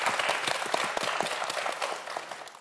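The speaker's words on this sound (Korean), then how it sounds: "여러분 박수 한번 보내주세요" A studio audience applauds on a Korean TV science quiz show, dense clapping from many hands, steady and close, fading slightly toward the end.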